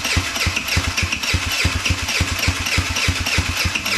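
A custom-built Chuckopolitan engine fires up for its first start, chugging in a fast, even, loping rhythm close by, with a rough mechanical rattle and no voices.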